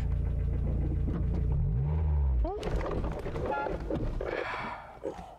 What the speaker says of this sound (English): Now you want to give it a little gas when you take your foot off of the clutch.